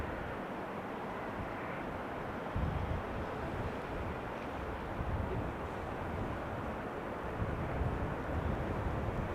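A Qatar Airways airliner arriving from Doha at Amsterdam Schiphol on a showery day, heard as a continuous broad jet roar at moderate distance with slow swells in low-end rumble.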